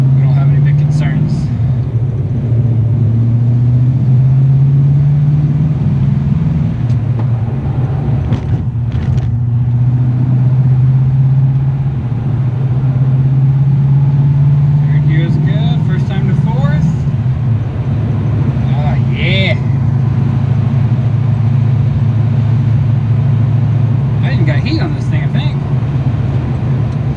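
A 1969 Camaro with a swapped-in 4-speed manual drives on a short test ride, its engine a steady loud low drone that rises and falls with gear changes, and someone talks over it.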